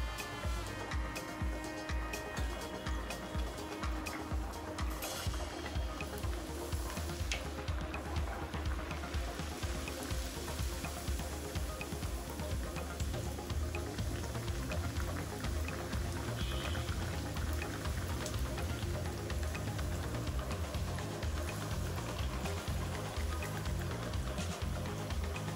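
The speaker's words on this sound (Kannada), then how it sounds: "ಈ ರೀತಿ ಮಾಡ್ಕೊಂಡು ಎಣ್ಣೆಲಿ ಕರೀನ." Rava aloo puri sizzling in hot oil, a steady dense crackle and bubbling like light rain, continuous and fairly faint, close to the pan.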